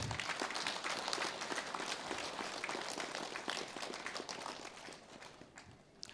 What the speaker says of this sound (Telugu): సో గట్టిగా చప్పట్లు కొడదాం.